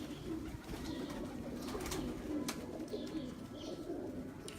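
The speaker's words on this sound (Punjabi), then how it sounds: "ਇਹ ਉਸਤਾਦ ਮੋਹਤਰਮ ਦੇ ਜੁਗਨੂ ਕਬੂਤਰ ਜੀ" Jugnu pigeons on a rooftop coo softly and repeatedly, low rolling calls heard fairly close over faint background noise, with a few brief chirps.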